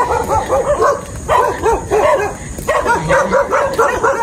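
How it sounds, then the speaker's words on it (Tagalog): Several dogs bark and yip close by during a dark evening walk along a street, rapid overlapping barks with some whimpering rising in bursts and filling the whole moment. "Maraming aso. Parang mangangagat sa binti."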